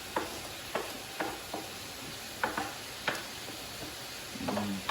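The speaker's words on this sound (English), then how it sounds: "At this point, I'll add my broccoli, my pre-cooked broccoli, as well as my green onions." Broccoli and green onions stir-frying with shrimp in a wok, with a steady sizzle and a series of sharp scrapes and clacks from stirring, close and alone with no talk.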